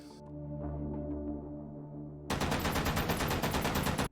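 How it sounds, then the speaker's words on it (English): A DP-28 machine gun with a top-mounted pan magazine fires in the VR shooting game H3VR: a low tonal hum gives way to a sudden, loud, rapid burst of automatic fire lasting under two seconds before cutting off. "The DP-28 is a machine gun that takes a dinner plate-like magazine on the top of the firearm."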